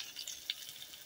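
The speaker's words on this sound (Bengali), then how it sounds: "পেঁয়াজগুলোকে আমি তেলের মধ্যে ভালো করে একটু লাল লাল করে ভেজে নেব" Chopped onions with a bay leaf and dried chili fry in hot oil for a fish curry, a steady close sizzle with a brief louder crackle partway through, no talking.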